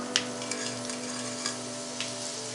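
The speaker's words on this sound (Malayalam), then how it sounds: "ഇനി നമുക്ക് ഇതിലേക്ക് നേരത്തെ ഫ്രൈ ചെയ്ത സവാള ഇട്ട് കൊടുക്കാം" Pre-fried onions tipped into hot oil for vegetable pulao, giving a steady close sizzle with a few soft stirring clicks and taps at intervals.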